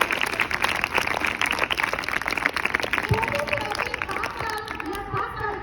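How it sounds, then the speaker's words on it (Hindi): An audience claps for small children performing at a Children's Day event, the dense applause mixed with crowd chatter and voices before it thins into scattered claps and talk. "तालियां बजाइए जोर से।"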